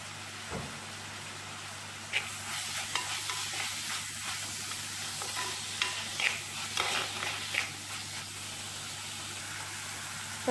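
Sliced onions softening with salt in a pan, a gentle sizzle with intermittent scraping stir strokes over a low background hum, close by and without talk.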